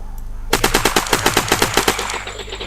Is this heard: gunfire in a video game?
yes